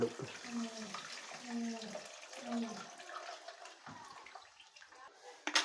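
Tamarind water is poured into a pot of fish curry, a splashing, gurgling liquid sound in several short pours, close by, with people talking quietly over it.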